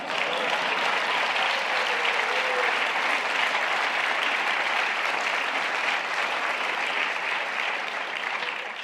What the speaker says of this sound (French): je trouve qu'on pourrait l'applaudir au nom de Jésus.